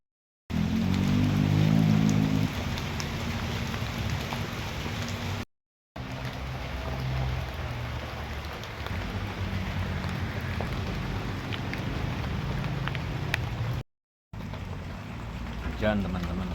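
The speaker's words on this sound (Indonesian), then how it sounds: "Hujan teman-teman, hujan turun." Rain falls steadily at a campsite hut in a teak plantation, a continuous close hiss that is briefly cut off twice.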